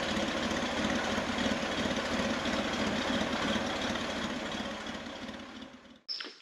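Rebuilt Corvair engine idling with a steady, slightly knocking chug for about six seconds, close and loud, then cutting off abruptly before a short burst of noise.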